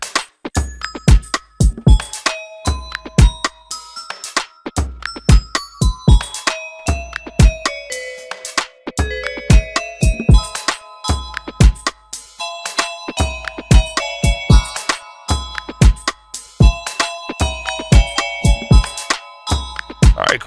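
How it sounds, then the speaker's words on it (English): Fallen Bells synth preset from The Grail by Foreignteck, playing bright, shimmering bell tones in repeated struck chords and melodic runs with long ringing tails, steady and loud throughout with no talk. "So that's the Fallen bells right there"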